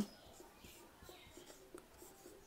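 Pen strokes writing out numbers for a division problem on paper, faint, quick and scratchy, repeating in a loose rhythm over quiet room noise.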